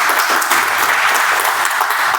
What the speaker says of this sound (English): Let's give a big round of applause to all of our guests